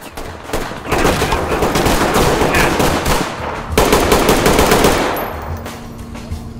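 In the tactical shooter Ready or Not, machine gun fire rattles in long, loud, sustained bursts. A brief break separates the bursts before the fire resumes and then fades out.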